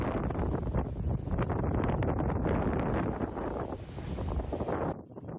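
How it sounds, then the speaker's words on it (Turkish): Strong wind roars and buffets the microphone at a grass fire in an open grassy field in the Ildır neighbourhood, a loud continuous rush that eases slightly at the very end. "Fırtına var resmen."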